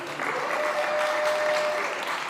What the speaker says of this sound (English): give yourselves a round of applause for getting out early in the morning in the heat